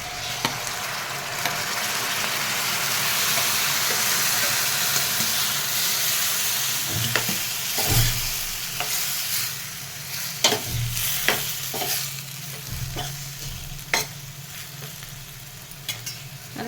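Tomatoes fry in hot oil with turmeric for pacchi pappu curry, a steady close sizzle and hiss running throughout while a spoon scrapes and clinks against the pan in irregular stirring strokes.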